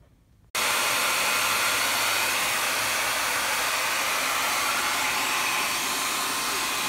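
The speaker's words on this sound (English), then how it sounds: "Didn't know you could blow dry oil paint." A hair dryer blow-dries oil paint on a canvas, switching on abruptly after a half second of quiet and then blowing with a steady, loud, close whooshing hum that continues to the end.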